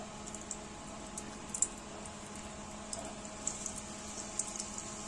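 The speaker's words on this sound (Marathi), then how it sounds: "तर आता आपल्याला वडा असा तळून घ्यायचा." Batata vada, a flattened potato fritter in besan batter, deep frying in hot oil, giving a faint, steady bubbling hiss with small crackles throughout, no talking.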